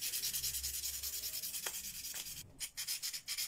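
A carved, thermoformed Mario Bros toe-cap head being hand-sanded, a steady close scratchy rubbing that runs continuously with a few louder strokes near the end, with no talking.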